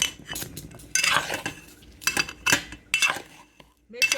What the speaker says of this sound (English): Empty the chickpeas inside the bowl and mix it together nicely.